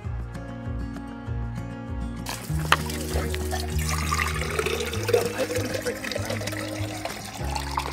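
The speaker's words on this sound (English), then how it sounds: "we are going to fill up our water bottles with this fresh," Running fresh, cold water from a natural spring splashes and gurgles into water bottles at close range, with steady background music underneath and a brief voice.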